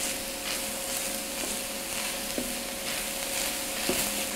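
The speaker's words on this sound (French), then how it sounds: "On ajoute les épinards. On les mélange avec le veau." Spinach being stirred into veal in a frying pan, a steady broadband sizzle with soft scraping strokes and a few brief utensil knocks against the pan, close and continuous.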